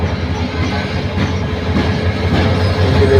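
A loud intercity train rumbles past nearby at Joydebpur railway junction, with rhythmic wheel clatter and a steady roar that grows slightly louder toward the end.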